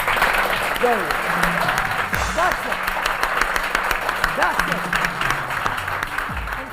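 A large TV studio audience on a morning show claps and applauds loudly and continuously, with cheers and voices mixed into the dense applause.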